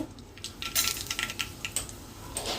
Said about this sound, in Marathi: आता त्याच्यामध्ये पाव चमचा मोहरी टाकून घेते